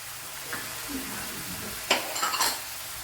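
Chopped capsicum tipped into a pan of frying cauliflower masala and stirred: a soft continuous sizzle, then a burst of spoon scraping and clinking against the pan near the end.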